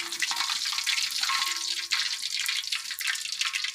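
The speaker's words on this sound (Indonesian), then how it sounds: "Kemudian kita tiriskan sekitar 30 detik." Freshly fried chicken draining after being lifted out of hot oil, giving a steady close hiss and crackle with fine dripping and sizzling throughout and no talk.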